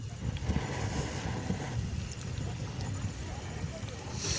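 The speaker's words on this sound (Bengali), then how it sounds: "প্রচণ্ড পরিমাণে হাওয়া নদীর পাড়ে।" Strong wind blows across a riverbank during an outdoor picnic feast, a low rumbling roar of gusts buffeting close by and swelling and easing over a few seconds.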